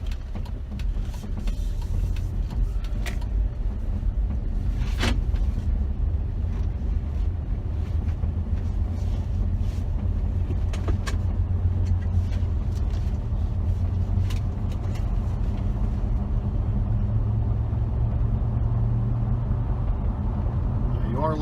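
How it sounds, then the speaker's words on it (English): Steady low road and tire rumble from a 2011 Jeep Wrangler Rubicon 4x4 with off-road tires while driving, a continuous near drone with faint interior rattles and occasional clicks, and no talk over it. "Likely going to hear some road noise, tire noise anyways."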